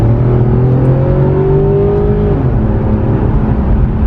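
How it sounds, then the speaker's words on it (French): A hybrid Infiniti Q50's V6, derived from the Nissan 370Z engine, runs with a loud, steady mechanical hum whose pitch rises slightly then settles, close and alone with no talking. "Voilà le petit bruit du V6."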